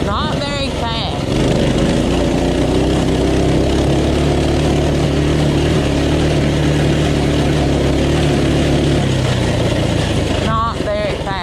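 A cheap Walmart pit bike runs wide open on a gravel driveway, its small engine holding a steady, loud drone close by throughout, with wind noise at the start and end.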